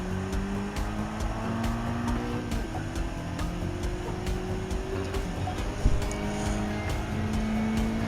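A race car laps Tsukuba Circuit in Gran Turismo 7, its engine a steady, moderately loud drone with rising and shifting pitch, plus a brief bump partway through and no talk.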